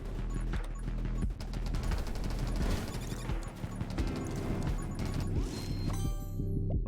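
Explosions blast in rapid succession around a mini-boss on the Temple stage of the video game 20 Minutes Till Dawn, with dense crashing bursts layered over continuous game music and effects for the whole stretch.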